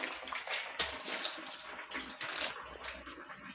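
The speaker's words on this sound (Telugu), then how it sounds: "నూనె వేడైపోయింది, నేను వేసేస్తున్నాను." Amaranth leaf vadas, or garelu, go into hot oil and fry with a busy, close crackling and sizzling, a dense spatter of small pops that rises and falls without a break.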